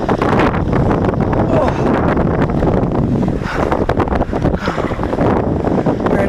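Strong wind buffets the microphone as kayakers paddle down the Provo River, a loud, continuous roar and rumble that never lets up.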